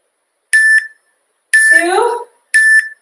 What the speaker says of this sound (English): Suddenly my timer decided to beep.